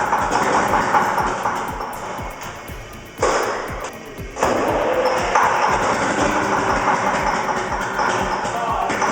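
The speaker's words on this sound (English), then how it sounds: "After 80 years, the V2 V12 diesel still answers, trembling but alive, proof that endurance can outlast the moment that demanded it." Soviet T-34 tank's V2 V12 diesel engine starting, a loud, dense rumble of rapid rhythmic firing pulses that briefly drops out and then surges back, heavy and close throughout.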